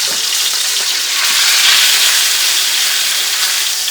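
A beef roast sears in a hot skillet with a steady, loud, close sizzle, a continuous bright hiss that holds evenly throughout and swells slightly toward the middle.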